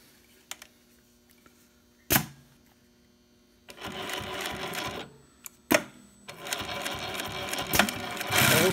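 A SEWPRO 1765 double needle, split needle bar post bed sewing machine stitching leather runs in two loud bursts, separated by a short pause and sharp clicks, with a quieter mechanical hum between them.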